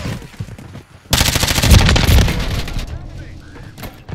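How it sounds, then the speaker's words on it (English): Gunfire in a video game live stream, a loud rapid burst of automatic shots starting suddenly and rattling for a couple of seconds, with voices talking around it. "Taking effective fire."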